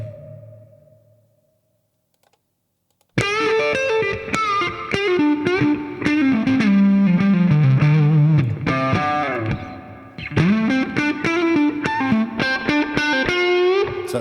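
An electric guitar runs through an Amplitube 5 preset with no EQ, playing loud, sustained distorted melodic lines with effects over several bars after a brief quiet start.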